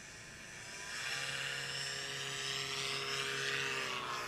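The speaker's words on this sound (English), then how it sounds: "That's a nice takeoff for Dan" A small STOL aircraft with a tiny two-stroke motor takes off at a STOL competition, its buzzing, whining engine rising quickly and then holding a steady, fairly distant drone.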